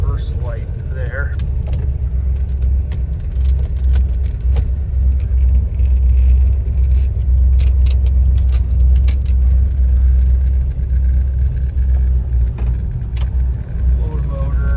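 A restored 1970 Dodge Challenger with a 440 engine and 4-speed runs at a steady idle, giving a continuous deep, even rumble that stays close and constant throughout.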